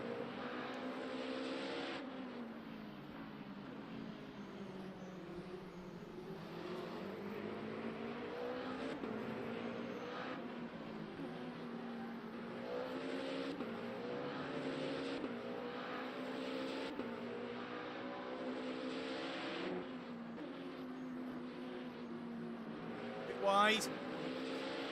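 Hypercar race cars at Spa in a racing game produce a continuous droning engine note, with gliding harmonics rising and falling through gear changes. The sound is fairly quiet and steady throughout, with a brief sharp burst near the end.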